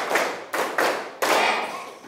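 A school class claps a rhythmic pattern together, three sharp, close bursts of many hands in a classroom, each trailing off before the next, with no talk.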